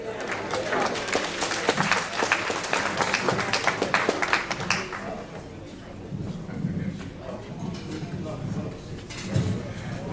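Applause at a community association convention in Atlanta, lively clapping for roughly five seconds that then drops away, leaving murmuring crowd noise and talking voices.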